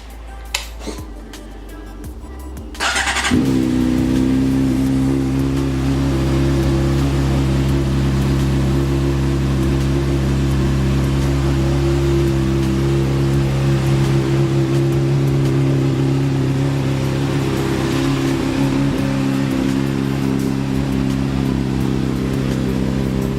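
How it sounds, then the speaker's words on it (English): A wrecked Honda CBR600RR with a jumped tilt switch cranks and fires up, then settles into a steady, loud idle close by that runs on without a break. "Bike starts right up. It sounds real good."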